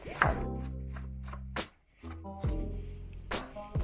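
A knife strikes a cutting board as it slices through boiled food, about five crisp, close chops with a short pause in the middle, set against a low hum.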